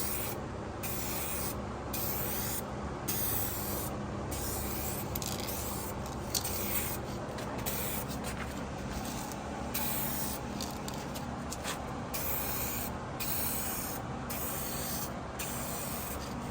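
Clear coat is sprayed from a shaken aerosol can onto cleaned canopy side panels. The hissing comes in close, repeated bursts, each about a second long, separated by brief pauses.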